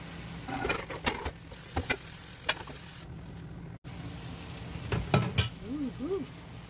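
Meat fries in a cast-iron pot for a Haitian vegetable stew, a moderate sizzle with scattered sharp clicks and knocks of a utensil, a brief dropout midway, and a short rising-falling tonal chirp near the end.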